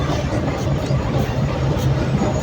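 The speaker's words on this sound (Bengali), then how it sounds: "আমাদের রাজশাহীমুখী আন্তনগর টুঙ্গিপাড়া এক্সপ্রেস 41 মিনিট বিলম্ব নিয়ে বাংলাদেশের প্রথম জংশন স্টেশন পোড়াদহ ছেড়ে যাচ্ছে" The Rajshahi-bound Tungipara Express intercity train pulls out of Poradah Junction running 41 minutes late, a steady, loud, close rumble with a regular low thumping throughout.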